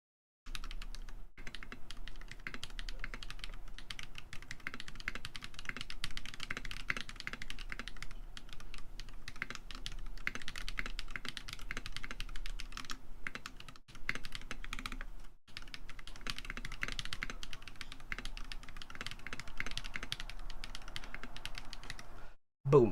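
Steady, rapid typing on a mechanical keyboard with tactile switches and Infinity Cabernet keycaps during a speed typing test, a dense continuous clatter of keystrokes with only a couple of brief pauses.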